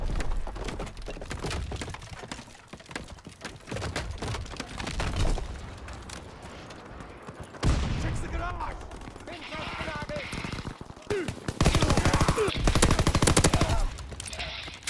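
Gunfire in the war video game War Rage: rapid bursts of shots and machine-gun fire, loud and intermittent, with a dense sustained barrage near the end and some game voices in between.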